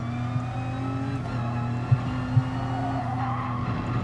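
A Group 1 race car at Maggiore in Gran Turismo Sport drones along under short shifting, its engine note dropping at gear changes, with a couple of brief thumps and faint tyre scrub in the background.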